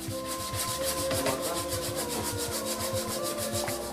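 Rhythmic back-and-forth rasping of sandpaper on wood, steady strokes repeating quickly and close to the ear, with no one speaking.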